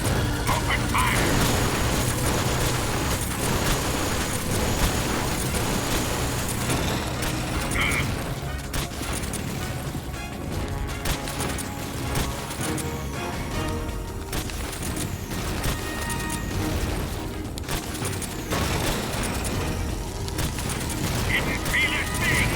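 Gunfire and explosions from the video game Metal Gear Solid 3 keep going, with dense bursts of shots, booms and mechanical clatter and game voices shouting over the noise.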